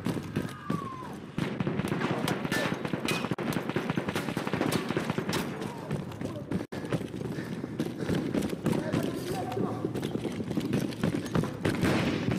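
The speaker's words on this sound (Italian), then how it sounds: "Mitragliatrice!" Sustained machine gun fire in Battlefield 1, with dense rapid rattling bursts that go on almost nonstop at a moderate distance and stop sharply for a moment partway through, mixed with battle noise.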